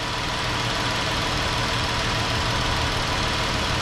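A car engine idles steadily while warming up to operating temperature with coolant circulating, a close, continuous low rumble with a faint mechanical tick and no voices.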